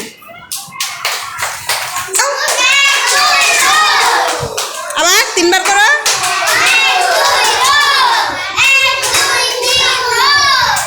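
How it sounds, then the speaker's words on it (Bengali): A classroom of children claps together for a classmate, a lively burst of many hands overlapping with children's voices, while a teacher speaks over it. "তাসিনের জন্য একটা সুন্দর তালি দিবেন"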